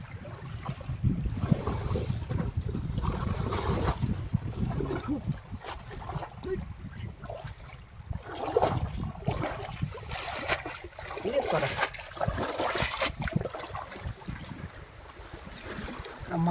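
A small rowing boat moves through a narrow creek in the Marichjhapi jungle, water sloshing and rippling steadily close by with intermittent wind, while people talk over it.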